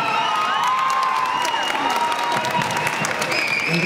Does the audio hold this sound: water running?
no